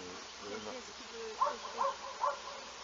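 Wasps and bees buzz around beehives at a school apiary, a faint, steady insect drone with a few brief louder swells, with low indistinct voices in the background.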